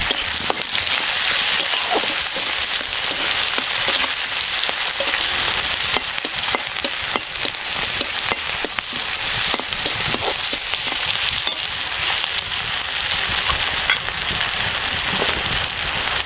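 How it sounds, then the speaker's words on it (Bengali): Chopped onions frying lightly in oil in a wok for an egg bhuna give a loud, steady sizzle with scattered crackles and scraping stirs throughout, no voices. "পেঁয়াজগুলো খুব বেশি ভাজবো না, হালকা ভাজা দেবো।"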